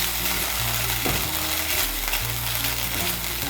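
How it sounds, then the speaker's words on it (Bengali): A paste of mustard, poppy seed and green chilli fries in hot oil for an ash gourd jhal. It makes a loud, continuous sizzle with faint stirring and scraping underneath, and nobody speaks. "সর্ষে, পোস্ত আর কাঁচা লঙ্কার পেস্টটাকে মিশিয়ে নেব।"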